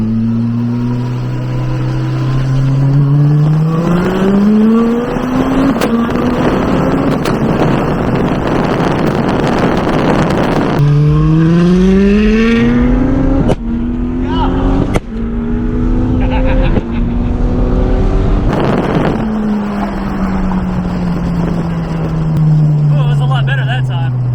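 A turbocharged Honda S2000 accelerates hard in second gear with the boost turned down, its engine note climbing in repeated rising sweeps with brief dips at shifts or lifts, loud and close under wind buffeting.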